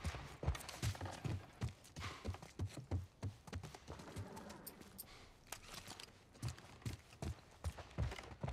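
Horses' hooves clip-clop at a walking pace in The Last of Us Part I, an irregular series of close, low thuds and taps with quiet pauses between.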